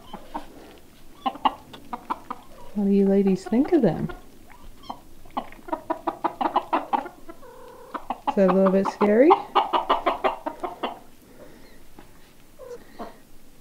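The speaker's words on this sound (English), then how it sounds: "Chickens are pretty interested in these little guys." Chickens cluck and squawk outdoors near young kittens, with several short bursts of bird calls that come and go while a person talks softly between them.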